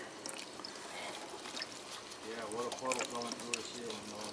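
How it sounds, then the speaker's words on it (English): Water drains and trickles from a leaking old air-conditioning system through a ceiling, a soft pouring and dribbling sound heard under a man's speech. "You're definitely starting to drain now."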